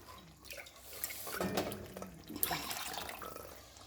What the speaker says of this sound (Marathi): तर मी पाणी टाकून घेते